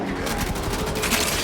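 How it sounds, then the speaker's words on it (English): Rapid bursts of video game gunfire crackle in quick succession, loud and close, with a sustained fusillade of overlapping shots through the whole moment. "They should not be firing fucking guns."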